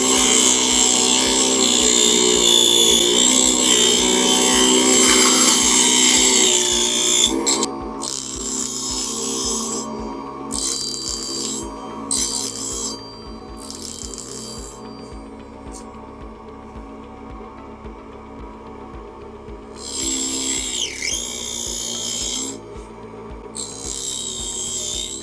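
A craft mini table saw cutting balsa wood at a lower RPM hums steadily, with the blade noise swelling and dipping in bursts as cuts are made. No one speaks.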